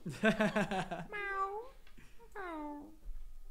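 A person imitates a cat with two drawn-out, wavering meows, one after the other, following a brief burst of other voices at the start.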